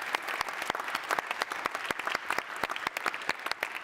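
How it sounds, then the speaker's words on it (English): Steady applause from the audience at a Baltic Sea regional strategy forum plenary on the marine environment, many hands clapping together at a moderate, even level from start to finish. "I hope you'd all help me giving a round of applause to the panelists"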